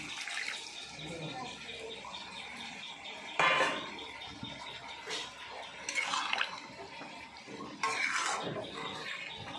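Boiled water is poured into a pot of cooking chicken, giving a steady hiss and splash with louder surges partway through, close by, set among light clinks of kitchenware.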